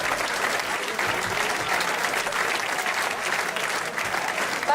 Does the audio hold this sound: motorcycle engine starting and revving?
no